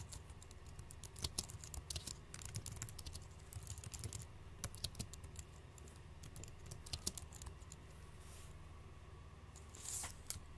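Someone types on a computer keyboard while configuring a CentOS FTP server, with quick, irregular key clicks in bursts and short pauses, faint and close.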